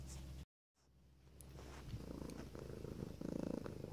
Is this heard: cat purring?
yes